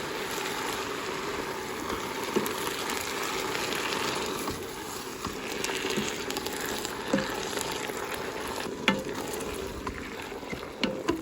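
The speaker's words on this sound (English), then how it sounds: "Now you can saute this for a good 3 to 5 minutes." Peppers and drained diced tomatoes sauté in a Ninja Foodi, giving a steady soft sizzle with small crackles and pops throughout, close and even with no talking.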